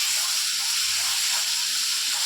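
Ginger and garlic paste sautéing in a pan for a fish curry gives a loud, steady hiss of sizzling that stays even for the whole stretch, with no talking over it.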